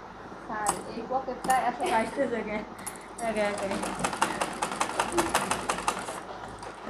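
A sewing machine runs fast stitches along a trouser pajama pocket, a quick even rattle of clicks in the second half after a voice talks over the first few seconds.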